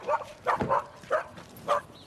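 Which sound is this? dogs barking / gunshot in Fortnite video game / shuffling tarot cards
dogs barking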